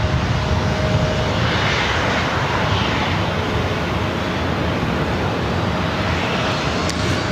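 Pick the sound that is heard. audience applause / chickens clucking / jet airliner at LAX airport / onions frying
jet airliner at LAX airport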